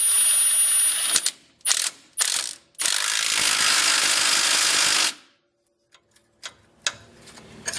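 A ratchet wrench tightening a bolt during a shock replacement on a 1992 Toyota pickup clicks rapidly in several quick bursts, then one long steady run of ratcheting, followed by a few faint scattered clicks, close and loud.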